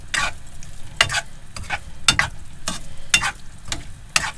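A plastic spoon stirs corned beef hash through hot oil in a pan on a small van kitchen stove, making repeated scraping strokes about once a second over a steady sizzle, close and loud.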